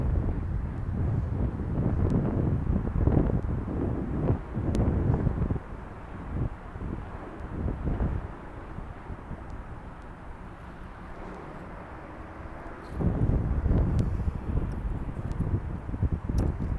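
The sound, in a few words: strong wind blowing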